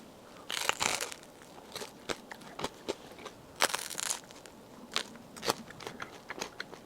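Bites into a crunchy cookie-topped bagel filled with pistachio cream, whole pistachios and chocolate chips, close and crisp, with irregular sharp crackling crunches and chewing over about seven seconds, no talk.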